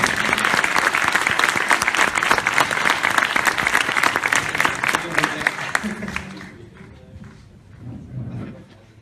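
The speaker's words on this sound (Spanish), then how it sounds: "Un aplauso para Pedro." An audience at a Fuckup Nights talk applauds for the speaker Pedro Lalanda with dense, sustained clapping that fades out after about six seconds, followed by a few faint voices and stage noises.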